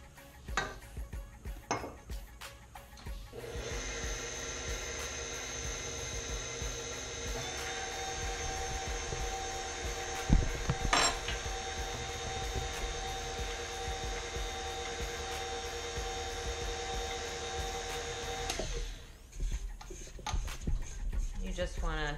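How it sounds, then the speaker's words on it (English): A KitchenAid stand mixer creams one cup of sugar with half a cup of butter, giving a steady humming drone that starts after a few seconds of kitchen clatter and stops near the end. A voice is heard at times. "I just have a KitchenAid mixer, and we're gonna start adding some of the ingredients to that."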